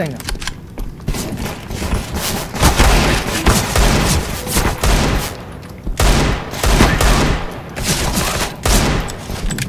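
Rapid bursts of pistol gunfire crackle continuously through dense, loud video game action, with heavy booms and clatter and no break in the shooting.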